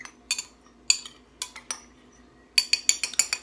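A utensil mixes ingredients in a bowl while preparing a seafood boil, making close, sharp clinks and scrapes in short bursts, with a quick flurry of rapid taps near the end.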